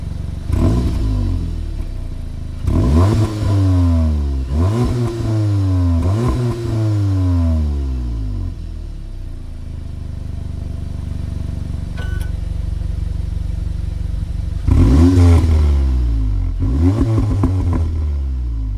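A 300 hp Cupra Ateca SUV engine revs hard from outside the car, with repeated sharp rises and falls in pitch in quick bursts, a quieter idle in the middle, then another loud rev.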